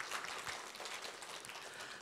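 Church congregation clapping during a sermon, a faint, brief burst of scattered applause with no talk.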